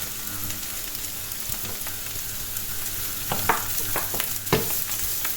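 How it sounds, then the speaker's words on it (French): Pieces of Toulouse sausage frying in a pan, a constant sizzle with scattered taps and scrapes of stirring growing busier toward the end. "J'ajoute les saucisses."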